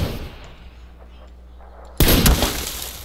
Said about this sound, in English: That's me shooting with you.